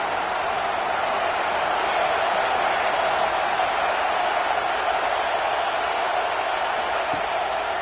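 Steady stadium crowd roar from the College Football 26 video game, LSU against Florida, as a field goal is attempted. The wash of noise holds at an even level throughout, with no distinct voices standing out.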